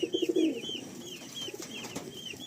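Pigeons of an old-line Madrasi breed give soft, throaty coos in a short run of pulsing notes, fairly close, with faint background noise and scattered chirps.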